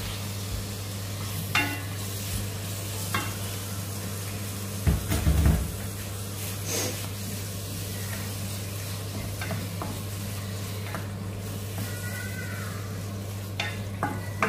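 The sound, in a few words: tomatoes cooking and being stirred in a pan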